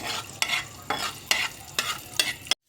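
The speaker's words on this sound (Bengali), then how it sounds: "প্রথমে আমি রসুনটাকে একটু ভেজে নিচ্ছি।" Garlic cloves frying in oil in a pan while being stirred, with a steady sizzle broken by several rhythmic scraping strokes, close and alone.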